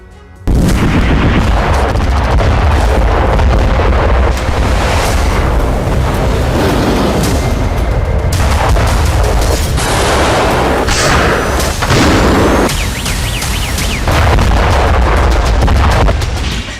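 Heavy explosions boom over the Black Sea amid war between Russia and Ukraine, a loud, dense barrage of overlapping blasts and rumbling detonations that continues almost without pause.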